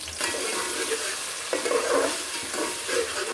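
Chopped onion sizzling in oil in a pan, a steady close frying hiss with occasional stirring scrapes and a few brief louder bursts, no voices.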